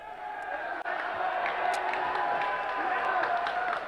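A volleyball crowd in a boys' high school gym cheers an ace serve against Mt. Lebanon with a dense, sustained roar of voices and claps.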